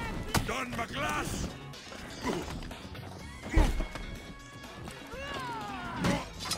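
Metallic sword clashes and parries in a For Honor duel with a Highlander, sharp whacks scattered among grunts, game effects and a player talking over the fight.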